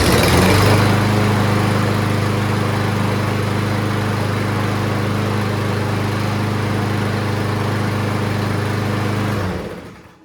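A freshly tuned-up lawn mower engine runs steadily in cold December weather, a loud, even drone with a strong low hum that holds for about nine seconds before cutting off abruptly.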